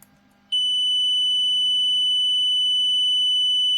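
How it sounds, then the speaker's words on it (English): After a brief quiet moment, a loud, steady electronic tone from a Parkside 12V battery charger failing to charge a 2Ah PAPK 12 A4 battery starts abruptly and holds unbroken at one pitch, with a low hum underneath. "It's beeping again."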